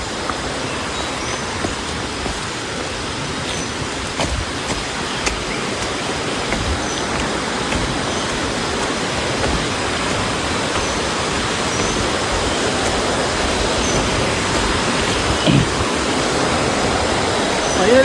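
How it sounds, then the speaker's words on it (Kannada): Abbigundi waterfall, a hidden fall near Sakleshpur in the Western Ghats of Karnataka, pours with a dense, constant roar of rushing water that builds slightly louder over time, close and unbroken. "ಫೈನಲಿ ಅಂತೂ ಒಂದು ಫಾಲ್ಸ್ ಕಂಡು ಹಿಡಿದ ಬಿಟ್ಟೆ. ಹಿಡನ್ ಫಾಲ್ಸು ಎಲ್ಲ ನೋಡ್ಕೊಳ್ಳಿ. ಅಬ್ಬಿಗಂಡಿ ಫಾಲ್ಸ್ ಅಂತ."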